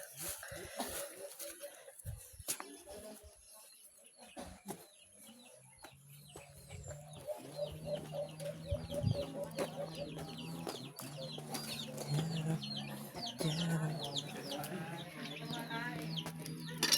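Chickens cluck and chatter in a rural village yard, intermittent calls building and becoming steadier over the clip, with people talking at times and other bird chirps nearby.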